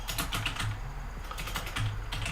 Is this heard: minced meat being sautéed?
no